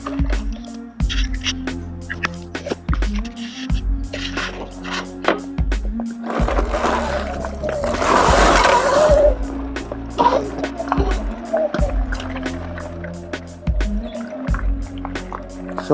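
A Sur Ron electric dirt bike rides at night, its drivetrain whine steady and close under bursts of wind rush and bumpy, clattering rattles from the terrain.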